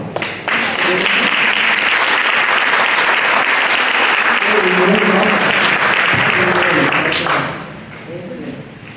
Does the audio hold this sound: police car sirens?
no